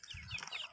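Chickens cluck and chatter nearby in a short burst, with soft bird calls overlapping.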